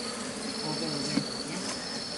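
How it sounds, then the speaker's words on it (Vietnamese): Honey bees swarm over an opened hive during honey harvest, making a steady, dense buzzing drone that stays close and even throughout, with no voices. "ong đang lên rất là nhiều đấy"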